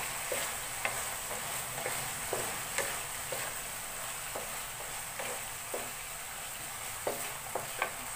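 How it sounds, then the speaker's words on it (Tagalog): Bottle gourd and sardines sautéed in a pan with pepper are stirred over a steady sizzle, with spatula scrapes and taps landing irregularly every second or so, close and clear with no talk. "Saka halu-haluin lang natin"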